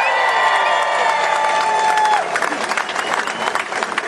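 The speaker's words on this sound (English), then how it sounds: "Let's have a round of applause for them." A rally crowd breaks into sustained applause with some cheering. A faint steady tone fades out partway through while the clapping carries on.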